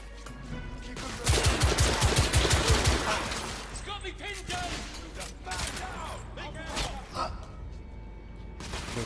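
Rapid bursts of gunfire aimed at the player in The Order 1886 on PS, a dense volley early on, then scattered shots and impacts trailing off under game noise.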